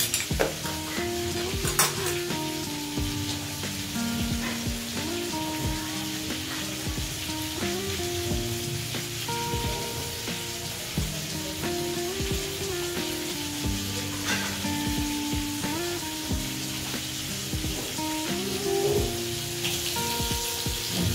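Onion sizzling and crackling steadily in hot oil in a pan, with stirring scrapes and clinks of a utensil throughout, close and continuous.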